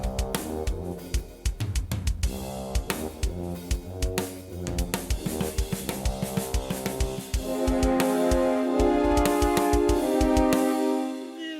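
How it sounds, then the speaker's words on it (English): A drum fill ramps from a verse beat into a chorus, with sharp, rapid hits over a backing track that swells into a fuller, sustained section, then drops out at the end. "But I'm gonna keep things relatively staid and just drop that fill in, which will sound like this."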